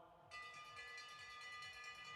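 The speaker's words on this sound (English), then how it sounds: "Here comes the bell." A bell rings out at a cycling race, sustained and ringing with a steady shimmering tone, fairly faint over low background rumble.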